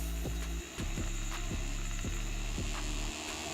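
Whirring motor of a Visagisto brush cleaner spin-drying a makeup brush, a close steady hum with a regular series of ticking, ratchet-like clicks throughout.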